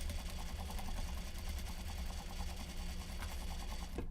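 A sewing machine runs steadily, its fast rhythmic needle clatter and motor hum continuing evenly throughout before cutting off abruptly at the very end.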